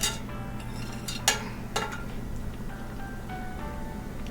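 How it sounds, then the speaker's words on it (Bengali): Cardamom, cinnamon and cloves sizzle in hot oil for a crab curry, a steady low frying hiss with a few sharp crackles and pops near the start. "তো আমি এখানে এলাচ, দারচিনি, লবঙ্গটা তেলে দিয়ে দিলাম।"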